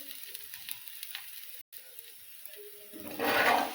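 Aloo paratha cooking on a hot pan, a quiet low sizzle with a brief cutoff partway through, then a louder burst of frying sizzle near the end, and no talking.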